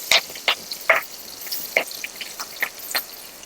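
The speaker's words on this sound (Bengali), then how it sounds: "আর তেলের মধ্যে দিয়ে দিচ্ছি চিড়ে রাখা কাঁচা লঙ্কা" Slit green chillies dropped into hot oil, sizzling and crackling in a series of sharp spits and pops at a close distance, with no talking.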